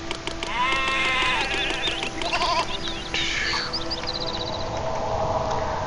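Goats at dairy sheds in the city-building video game Zeus: Master of Olympus bleat in a run of overlapping calls, loud and close against steady game ambience, with no speech.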